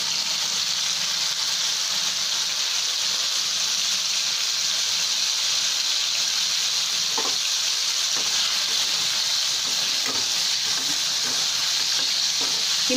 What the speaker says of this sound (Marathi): ही मांदेली फटाफट तळली जातात